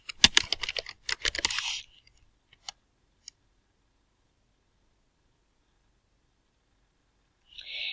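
Someone types account details into a computer keyboard in a quick, close flurry of keystrokes lasting under two seconds. A couple of isolated taps follow, then a long silence and a brief soft hiss at the end.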